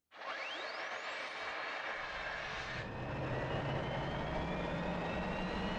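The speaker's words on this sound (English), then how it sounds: "And this should start the aircraft." Fiat G-91 jet engine starting up in Microsoft Flight Simulator 2020, a loud rising turbine whine that spools up steadily and settles into a continuous roar.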